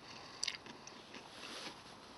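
Crunchy chewing of hard-coated MRE peanut butter candy drops, with a sharp bite near the start followed by softer crunching close to the microphone.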